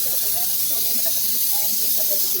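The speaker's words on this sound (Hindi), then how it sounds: "गाइस यहाँ पर मसाला भुन रहा है" Masala spices roasting in a hot pan at home give a steady, close hissing sizzle that holds evenly throughout, with faint crackles scattered through it.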